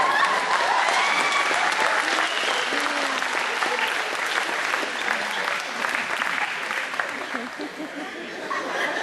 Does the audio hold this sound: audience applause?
yes